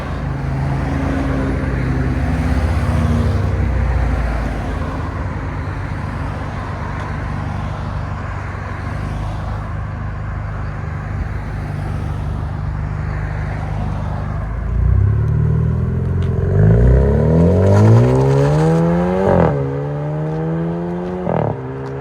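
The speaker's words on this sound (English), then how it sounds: "Muffler delete on an Alfa Romeo Giulia." A 2019 Alfa Romeo Giulia 2.0L turbo with its muffler deleted and a T pipe in place idles with a loud, raspy drone, then revs several times, rising and falling sharply near the end.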